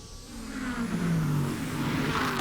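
Race cars at Laguna Seca during an American Le Mans Series race, prototypes mixed with GT cars, roar past in a loud continuous engine drone with shifting pitch as the field sweeps by, no talk over it.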